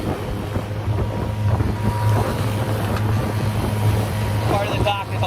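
Running outboard of a 1989 Yamaha Mariner 30hp on a motorboat in shallow saltwater, with a steady low drone and uneven rumble as it drops a cylinder, under constant wind buffeting on the microphone.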